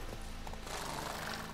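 Horse hooves clip-clopping as riders set off, a few soft uneven hoof knocks at close to middle distance over a muffled outdoor background, fairly quiet overall.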